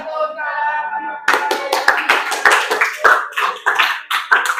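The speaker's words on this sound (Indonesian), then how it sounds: "Tepuk tangan dulu." Students in a classroom clap their hands together in a sharp, loud rhythmic pattern of distinct beats, following a brief stretch of voice at the start.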